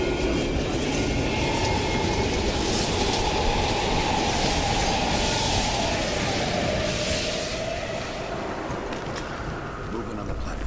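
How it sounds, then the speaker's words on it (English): Train rolling past on an abandoned station platform in the video game Call of Duty: Black Ops Cold War, a loud continuous rumble with rhythmic wheel clatter and squeal, with speech heard over it. "We can use a train to slip past."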